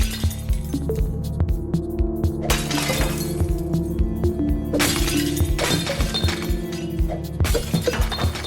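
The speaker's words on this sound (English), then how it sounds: "You really gotta shatter these glasses before they hit you in the face." Glass panes shatter again and again in the video game Smash Hit, sharp crashing bursts landing every second or two over a droning, pulsing game soundtrack.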